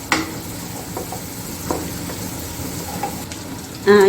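Three large chopped onions frying in a pan for chicken Manchurian, a steady low sizzle with a few soft stirring knocks and a louder clatter at the very end.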